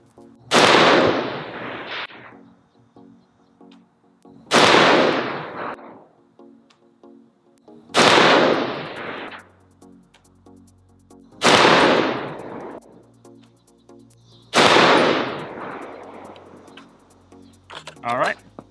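A Stag Arms 10S .308 AR-10 M-LOK rifle with a Primary Arms 1-8 scope fired outdoors, five loud, sharp reports spaced about every three to four seconds, each with a ringing decay.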